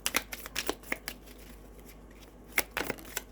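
Affirmation cards shuffled by hand, giving a run of quick crisp riffling bursts with short pauses between them, close and fairly quiet, with no one talking.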